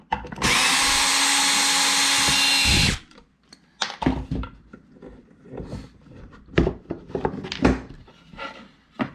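A power drill backs screws out of a small wooden cornhole board in one loud, steady whir lasting a couple of seconds, followed by scattered clunks and rattles as the board and parts are handled nearby.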